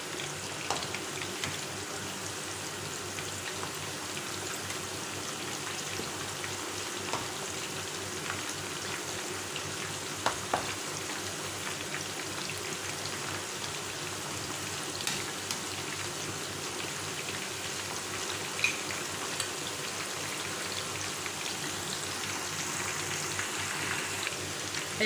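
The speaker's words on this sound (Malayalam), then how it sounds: "നല്ല ക്രിസ്പി ആയിട്ട് പൊരിഞ്ഞിട്ടുണ്ട്. നമുക്കിത് എണ്ണയിൽ നിന്ന് എടുക്കാം കേട്ടോ." Steady, dense sizzling of chicken pakora deep frying in hot oil, a continuous crackling hiss with occasional small pops, heard close with no talking.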